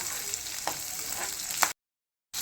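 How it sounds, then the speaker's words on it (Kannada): Spices fry in hot oil in a pan for brinjal masala, making a steady close sizzle with a few sharp stirring scrapes before the sound cuts to brief silence, then resumes. "ಇದನ್ನು ಒಂದು ಹತ್ತು ನಿಮಿಷದವರೆಗೂ ಹುರ್ಕೋಬೇಕು ಚೆನ್ನಾಗಿ ಕಂದು ಮಣ್ಣು ಬರೋವರೆಗೂ ಹುರ್ಕೋಬೇಕು"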